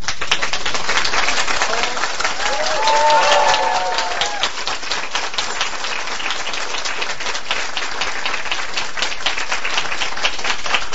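Steady, brisk applause from an audience at an Amway meeting, many hands clapping at once for the whole stretch with a brief murmur of voices near the start.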